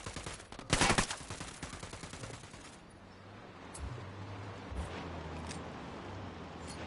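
Gunfire in the Ghost Recon video game: a loud burst of shots near the start, followed by scattered, fainter single shots and distant firing over a low background rumble.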